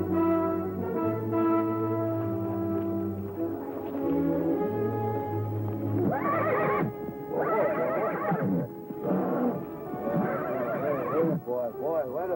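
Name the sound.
horse neighing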